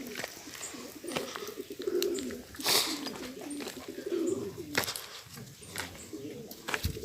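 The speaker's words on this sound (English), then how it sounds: "They're called pigeons." Pigeons coo in low, soft repeated phrases beside a breadfruit roast outdoors, mixed with scattered clatter, thumps and some speech in the background.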